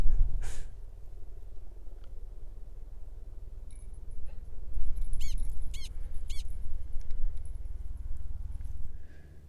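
Jax the dog whining on a leash at prairie dogs inside a caldera, several high, rising whimpers in short bursts over steady wind rumble, fairly close.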